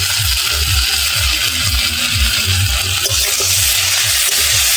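Eggplant fries in a pan at home while it is stirred, giving a steady close sizzle broken by repeated scraping strokes of the spoon, with no voices.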